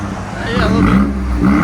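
A 2015 BMW i8 fitted with straight pipes starts up and revs, a short burst of low engine rumble with people talking over it.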